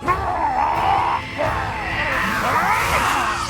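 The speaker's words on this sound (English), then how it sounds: "you can even hear a pained little scream when he tears apart" A pained little scream as a Cloak of Levitation tears apart in Marvel's What If animated episode, a strained, wavering cry layered over dense, loud dramatic score and effects, lasting several seconds.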